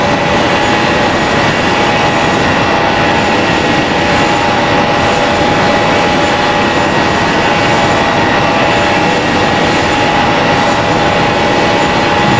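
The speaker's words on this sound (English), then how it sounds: "you'll hear the engines now as they spool up" Boeing 767-300 jet engines in the FSX flight simulator spool up for takeoff on the runway, a loud, dense, steady roar that holds without a break and with no talking.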